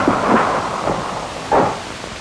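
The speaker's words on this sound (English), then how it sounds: "Crackling sound of small arms fire, the crump of grenades." Crackling small arms fire mixed with the dull crump of grenade explosions in the Vietnam war, heard as a few rumbling bursts with a heavier thud near the end, set against a constant noisy background.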